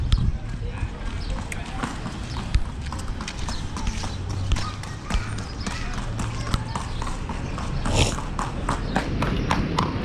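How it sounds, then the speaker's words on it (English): Hollow hoof clip-clops repeat at a steady walking pace, moderately close, over constant traffic rumble and a low murmur of voices. "Another horse."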